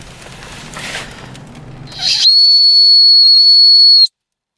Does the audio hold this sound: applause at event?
no